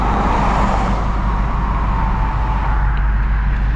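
2024 Ford Mustang GT running on E85 fuel while being driven, a steady loud engine and road drone from inside the car with constant low rumble throughout, no sharp changes.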